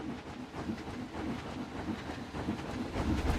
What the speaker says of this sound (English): A little train ride into the spooky section.